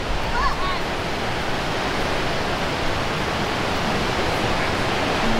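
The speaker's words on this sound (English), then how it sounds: "Like that waterfall over there?" Steady broadband rush of a distant waterfall near Helen, Georgia, a continuous hiss with a faint brief whistle-like voice sound near the start.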